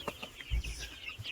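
Nineteen-day-old birds on a small poultry farm cluck and chirp in short scattered calls, fairly close, with a few low thumps and soft rustling among them.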